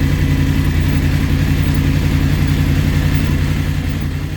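A 2021 BMW F750GS motorcycle engine idles close by, a steady low, throbbing hum holding an even level throughout, with no speech over it.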